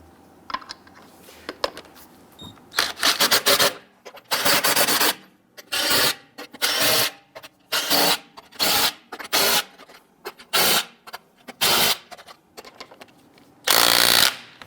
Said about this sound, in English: Get our lug nuts all started by hand first.